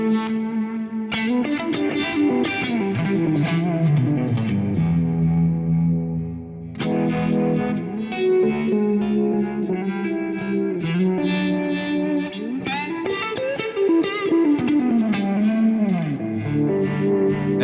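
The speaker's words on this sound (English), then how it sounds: "let's say I want to throw in a univibe" Electric guitar through a univibe effect on a Quad Cortex, distorted chords and lead lines swirling with a slow throbbing chorus-like pulse and light echo, played continuously and loud with no talking.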